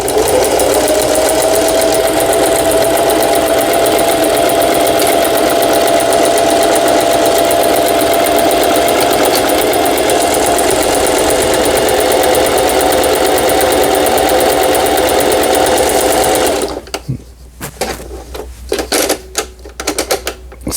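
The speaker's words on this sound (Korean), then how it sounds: "오버록 패턴의 오버록 스티치 바느질" A Singer 4432 sewing machine stitches an overlock pattern in a loud, fast, steady mechanical chatter lasting about sixteen seconds, then stops, leaving a few sparse clicks and rustles.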